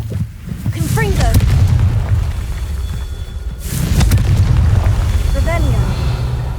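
Confringo spell blasts in the video game Hogwarts Legacy, two heavy booming explosions with a low rumbling tail, mixed with game effects and brief chirping sounds.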